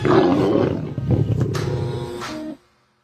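A deep lion roar rumbles loud and close for about two and a half seconds, swelling and rasping with growling texture before cutting off abruptly into silence.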